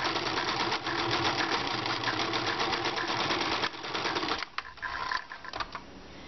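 A sewing machine runs a raglan shirt seam from the sleeve to the armpit, with fast, steady close-up stitching for about four seconds before it slows into a few short, uneven bursts and stops.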